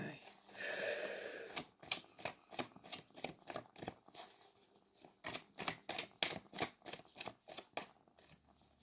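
Tarot cards riffled and shuffled by hand in a quick series of crisp, fluttering snaps, about a dozen close bursts with short pauses between, with some low voice murmur early on.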